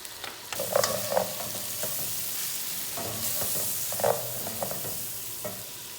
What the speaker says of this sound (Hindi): 3 टमाटर मैंने काटे हैं, वो डाल रही हूँ।